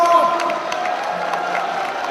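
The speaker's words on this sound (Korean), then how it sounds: "박수 부탁드립니다" Crowd cheering and applauding at a cold-weather Democratic United Party election rally in Seoul, a dense, steady roar with whoops running throughout, fairly loud and continuous.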